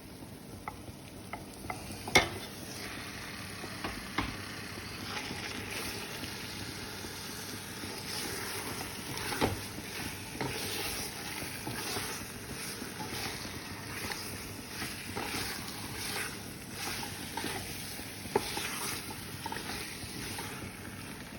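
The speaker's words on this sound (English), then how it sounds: "now it's time to add the beef" Beef for rendang fries in a pan over aromatic cooked spices, a soft steady sizzle broken by intermittent stirring clatters and scrapes, with no talk.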